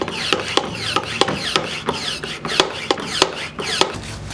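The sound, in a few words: pumping up a brake pressure bleeder to 10 psi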